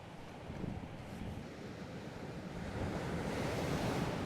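Heavy surf crashing and churning against a rocky shoreline in a building swell, a steady roar that swells louder toward the end, with wind buffeting the microphone.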